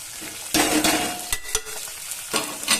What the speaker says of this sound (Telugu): ఈ పుదీనా కొత్తిమీర ఒక దగ్గరనే ఉంది కదా ఇది వేసుకోవాలి అలాగే కరివేపాకు కూడా వేసేసుకోవాలి